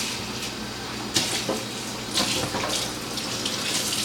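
A rubber mat is rinsed under a running tap, steady hissing water with splashy bursts where the mat shifts in the stream, close and continuous.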